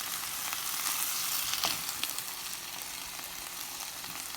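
Diced tomatoes and drained black beans simmer and sizzle in a pan, a constant close hiss with a few soft pops, no talking.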